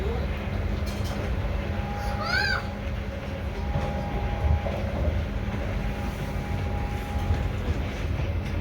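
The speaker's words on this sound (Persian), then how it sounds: "دوستای عزیز ما در قطار ششتیم" Steady low rumble of a German National Express train interior in motion, with faint squeals and a brief chirping sound, continuous and even throughout.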